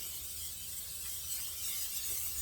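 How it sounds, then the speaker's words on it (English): Cooking spray hisses onto the tops of bagels in a steady, close, continuous spray lasting a couple of seconds. "spray the tops of the bagel with some cooking spray"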